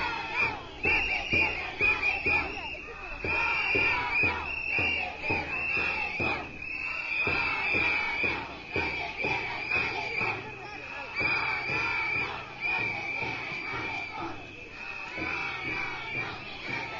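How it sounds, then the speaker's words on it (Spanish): Protest crowd, led by children, chanting in rhythm against closing the seafront promenade in a town square, a loud, sustained chant with steady repeated beats throughout, heard close. "al grito no, no, no, no se cierra el malecón, y encabezándolo la gente más pequeña."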